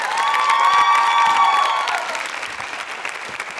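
Loud audience applause fills a university quiz show on consumer protection at MJRP University, steady at first and then thinning slightly as the clapping tapers, with faint tonal ringing early on.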